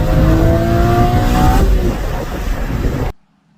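Porsche Cayman GT4 engine revving loudly up close, a sustained high-pitched wail climbing and then easing before cutting off abruptly.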